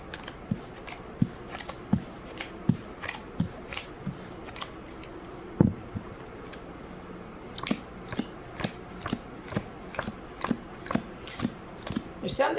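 Playing cards being shuffled and squared up by hand, a series of short crisp riffles and taps repeating irregularly at close range.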